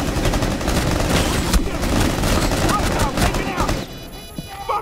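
Enemy gunfire in the video game Rainbow Six Siege comes as dense, loud volleys of rapid shots. It fades out abruptly near the end, and game voices sound faintly beneath it.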